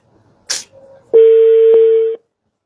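A telephone call being placed, a brief click followed by a single long, steady ringback tone, close and clear, then silence.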